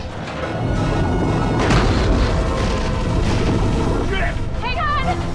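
Torpedo explosion as a movie sound effect in a giant shark and octopus monster film: a loud, sustained booming roar with heavy low rumble that fills the whole stretch, with brief shouted voices near the end.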